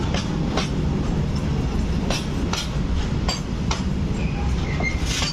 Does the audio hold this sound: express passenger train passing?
yes